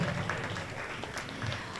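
Guests at a New York reception clap steadily in a moderate room-filling round of applause for Senator Schumer and Ambassador Nick Perry.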